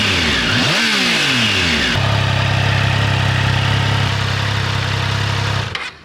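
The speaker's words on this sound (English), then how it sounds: "Triumph 660cc smooth triple engine with 80 brake horsepower and 64 Newton meters of torque, how does she sound?" A 2022 Triumph Tiger Sport 660 with its 660cc triple engine and standard exhaust blips sharply through a couple of quick revs, then settles into a loud, steady, close-up drone before cutting off at the end.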